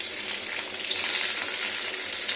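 Brinjal and potato frying in a pan with green chilli for a poppy-seed dish, a steady soft sizzle and crackle heard close and alone.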